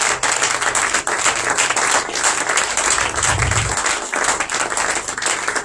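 Congregation applauding at the opening conference of a Feast of Tabernacles gathering, a dense, steady wash of clapping that holds for several seconds with no break.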